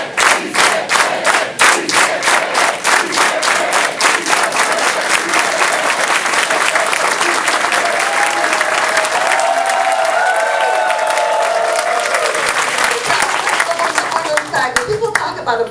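A rally crowd for early voting in Dallas chants in unison with steady organized hand claps, a loud, continuous rhythmic clapping that runs nearly throughout, with voices rising over it in the middle.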